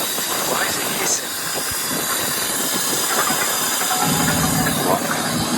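A broken BMW 535D Touring diesel engine idles with a loud, steady hiss running throughout, a low engine rumble underneath and a deeper swell near the end.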